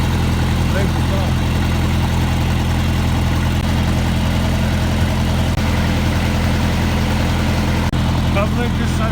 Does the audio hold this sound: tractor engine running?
yes